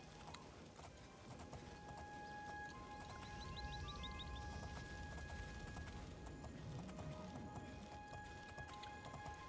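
Steady clip-clop of horse hooves in the game Oblivion, set against a constant backdrop of ambient noise and tonal music.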